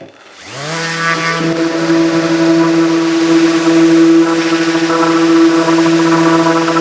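A steady, loud Festool Rotex 90 orbital sander with a soft pad whines with a sustained tonal hum, starting abruptly and running continuously without pause, no talking.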